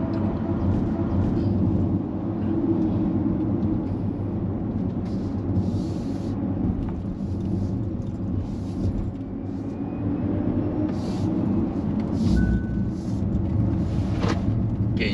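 A Kia EV6 all-wheel-drive electric car accelerates up the Genting hill climb road. A dense, loud, steady rumble of tyre and road noise fills the cabin, with faint whines and clicks over it and no talk.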